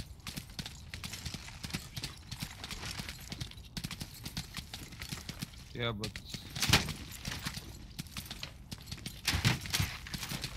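Horse hooves clip-clopping in the medieval battle game Tiger Knight: Empire War, a rapid steady gallop throughout with clashing metal and bursts of game noise, under players talking.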